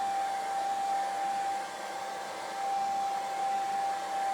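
A hair dryer blows steadily on a rustic tractor sign, a close, constant whooshing hum with a faint whine that dips briefly in the middle and otherwise runs unbroken.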